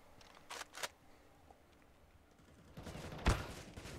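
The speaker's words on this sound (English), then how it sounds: "Damage coming in, spray through the wall from one of the M4s" Gunfire from an M4 rifle in Counter-Strike, sprayed through a wall on the Train map, comes as a couple of quick bursts early on and a sharper, louder burst near the end over steady game ambience.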